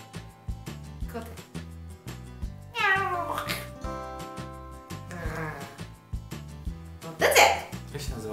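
A woman imitates a cat with her voice, giving a drawn-out meow, then a shorter one, heard over background music with a steady beat.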